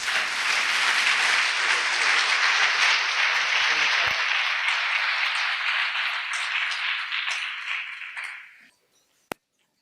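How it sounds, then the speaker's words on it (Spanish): Audience applause welcoming a speaker at a charity course session, a loud, dense wash of clapping that holds steady and then fades out, ending with a single sharp tap after silence. "Lo recibimos con un aplauso y le agradecemos su presencia."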